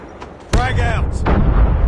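A frag grenade blast in the Call of Duty: Mobile video game arrives as one sudden loud boom with gunfire following, mixed with game voice sounds.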